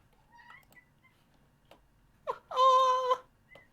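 A pet cat lets out a short chirp followed by a single long, clear meow close by, set against a quiet room.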